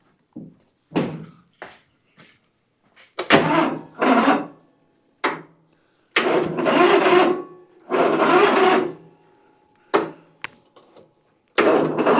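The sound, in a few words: riding mower engine turning over, possible blown head gasket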